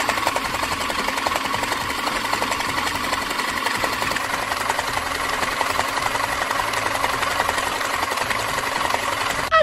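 Sewing machine stitching a princess dress, a loud, fast, steady mechanical whirring rattle running nonstop and close.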